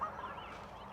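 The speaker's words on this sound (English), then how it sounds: "We got wild turkeys out here." Wild turkeys call outdoors near a box truck build site, a brief, fairly faint warbling gobble-like cry from a short distance, with no talking.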